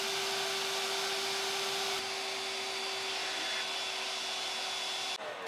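A vacuum cleaner runs with a steady, high-pitched whine and broad hiss, constant and fairly close, cutting off abruptly near the end, used while routing cable through a bike frame.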